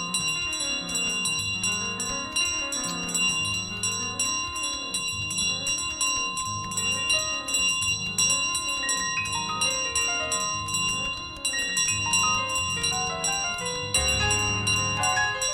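Rapid bell ringing in Untitled Goose Game, with bright repeated metallic strikes over a layered tonal game soundtrack, steady and loud with a brief dip near the end.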